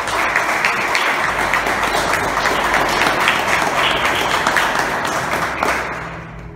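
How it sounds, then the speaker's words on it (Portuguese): Church congregation giving loud, sustained applause for Jesus, dense clapping from a big crowd close up that carries evenly and then tapers off near the end. "Dê mais uma forte salva de palmas para Jesus."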